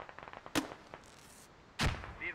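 Gunfire from the military shooter game Squad, with a string of faint distant pops followed by two sharp, louder close shots.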